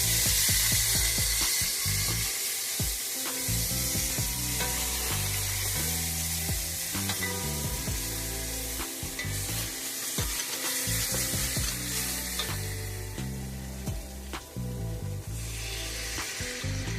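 Turkey necks browning in a hot pan give off a loud, steady sizzle with occasional stirring scrapes, close and continuous with no talk.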